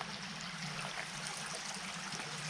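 Creek water flowing steadily in Teanaway, Washington, a continuous broadband rushing and trickling stream sound, close and even throughout with no voices.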